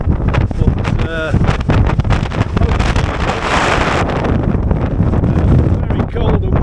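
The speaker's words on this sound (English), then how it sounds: "very cold and windy out here, I must admit." Strong, cold wind buffeting the microphone outdoors by a strait on a ferry crossing, a continuous roaring rush with gusts, while someone speaks over it.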